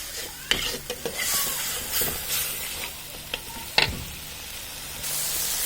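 Spice paste and cumin powder frying in a pan, a soft continuous sizzle broken by the scrape and knock of a spoon stirring at irregular moments, close and moderately quiet, with no talking.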